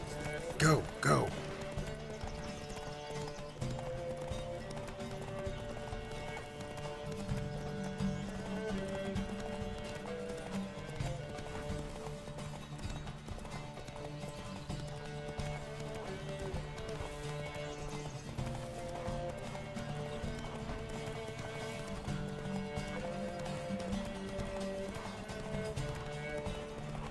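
Video game horse race with hooves clip-clopping in a quick galloping rhythm, a neigh near the start, and game music and spoken voices running over it throughout.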